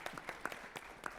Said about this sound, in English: Give him an applaud.